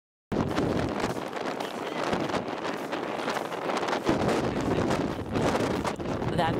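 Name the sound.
strong wind blowing over microphone, speech drowned out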